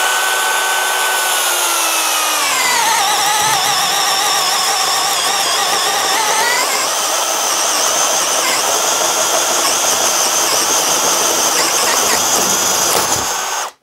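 Worx WX177 Switchdriver 2.0 cordless screwdriver whirring steadily on its own, its motor pitch dropping under load as it drives into a small wooden board, then cutting off abruptly.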